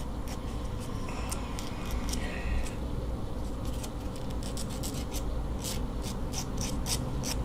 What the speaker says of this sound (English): you hold them together like this, and you sand like that